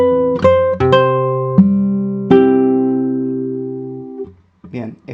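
A classical guitar plays a phrase of a tango, with plucked notes and chords ringing out one after another, close and clear, then fading before a few softer notes at the end.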